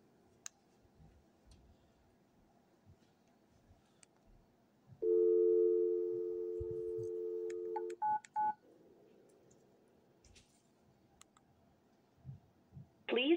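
A Grandstream WP820 desk phone gives a click as its voicemail button is pressed, then a steady tone for about three seconds, followed by short beeps and scattered clicks.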